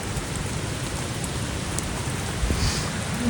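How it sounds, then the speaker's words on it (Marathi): Heavy rain pours steadily on a trek to Kohoj Fort, a dense continuous roar of drops hitting surfaces close by, with no voices. "पाऊस तर खूपच आहे"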